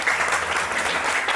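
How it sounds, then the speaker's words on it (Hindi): A short burst of dense applause from a gathered audience, many hands clapping steadily at close range. "तालियां किसके लिए बज रही हैं?"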